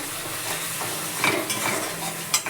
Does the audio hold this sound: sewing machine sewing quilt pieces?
no